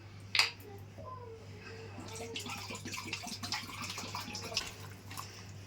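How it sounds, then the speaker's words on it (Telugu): Water pours and splashes into a pot of goat head curry after a sharp clink, a soft continuous trickle under a steady low hum. "ఇప్పుడు వాటర్ పోసుకుందాం"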